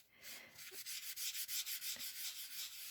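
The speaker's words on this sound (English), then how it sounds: "and just rub it into the lino." A rag or tissue rubs ink into lino with a rhythmic run of close, soft scuffing strokes, brisk back-and-forth swipes steady throughout, with no voices.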